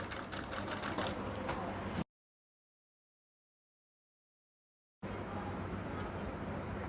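Sewing machine stitching cloth for a chemise, a steady dense mechanical whir for about two seconds, cutting out to silence, then resuming just as loudly.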